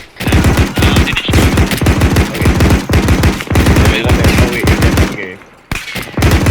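Sustained rapid gunfire in Arma 3 strikes a vehicle, loud bursts and fusillades running nearly without pause through the clip, with only a brief lull near the end.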